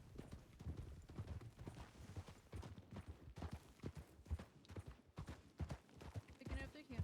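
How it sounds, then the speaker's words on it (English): Horse hooves in the Wild RP video game clip-clop in a steady, quickening rhythm as the horse picks up to a canter, with a voice talking over the hoofbeats. "Picking up the canter. Picking it up to a canter."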